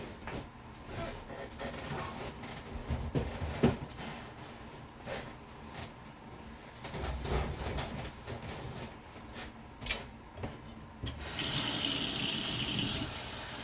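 Tap water runs for cooking oatmeal, a steady hiss and splash near at hand that swells louder toward the end, mixed with faint kitchen clatter.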